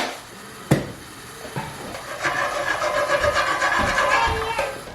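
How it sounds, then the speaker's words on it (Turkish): Vermicelli toasting in a little oil in a pan, a steady hissing sizzle that swells after a couple of sharp knocks and clatters, close by and without talk. "Tavaya birazcık sıvı yağ ekledim ve şehriyeleri kavuracağım önce."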